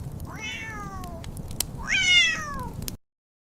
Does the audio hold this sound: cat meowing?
yes